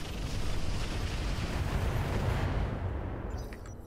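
Sustained barrage of artillery fire and explosions in a tactical shooter game, a dense continuous roar with overlapping booms, loud and close, fading slightly at the end.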